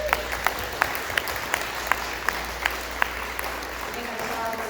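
Steady, evenly spaced claps ring out at a regional team stand-up meeting to welcome a new traffic engineer, sparse hands over a quiet room hum, with someone talking underneath.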